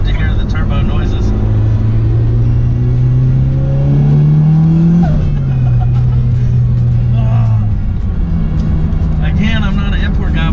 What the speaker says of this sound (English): I love to hear the turbo noises.